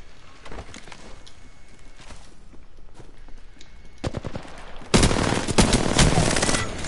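Video game shooter gunfire in a one-on-one match: scattered rapid shots at first, then a sustained loud burst of automatic fire near the end.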